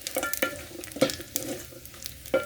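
Pilau masala sautéing in a pan for Kenyan beef pilau, with a close, steady sizzle broken by several sharp scraping strokes of the spoon against the pan.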